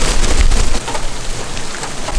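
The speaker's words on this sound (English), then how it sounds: "It's hailing." Small hail falls during a storm in Calgary, making a loud, dense, continuous clatter with low rumbling underneath, heard close up and without speech.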